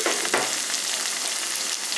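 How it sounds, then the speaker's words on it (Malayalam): Chopped onion frying and being stirred in a pan for a Kerala tapioca, plantain and chilly fish curry, a steady close sizzle with a brief scrape near the start, no talking. "അപ്പം നമുക്ക് ഉള്ളി എല്ലാം കൂടി ഇട്ടിട്ട് ഇതൊരു ഗോൾഡൻ ബ്രൗൺ ആവുന്നിടം വരെ ഒന്ന് ഇളക്കി കൊടുക്കാം."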